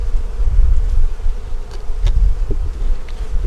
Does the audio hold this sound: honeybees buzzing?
yes